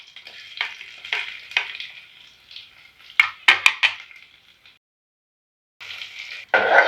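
Garlic, cumin, dried red chillies, mustard seeds and urad dal sizzle in a pan for drumstick-leaf poriyal, with close scraping stirs and sharp spatula clacks, a brief quiet gap, then renewed frying hiss.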